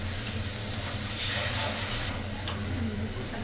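Water poured into hot oil and spices in a pan bursts into a loud hissing sizzle, swelling briefly then settling into a steady steamy hiss.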